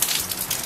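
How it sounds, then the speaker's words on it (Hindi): Steady rain hiss, a dense wash of drops pattering close by, continuous and fairly loud for the whole moment. "दीदी सुनो, कितनी बढ़िया बारिश हो रही है"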